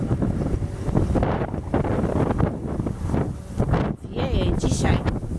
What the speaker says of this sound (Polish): Wieje dzisiaj.